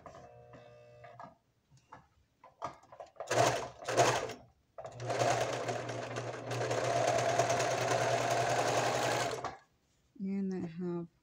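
A sewing machine stitching a curvy quilt runs in short bursts and then in a longer steady whirring stretch. Quiet talk comes before and after the runs.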